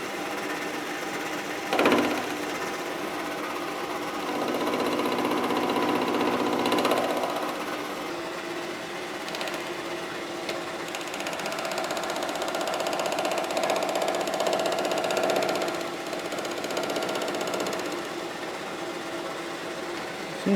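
A machine tool spindle turns steadily at 1000 RPM while cutting with a dividing head setup, giving a continuous mid-level hum and whine with faint tonal changes over about twenty seconds, no voices.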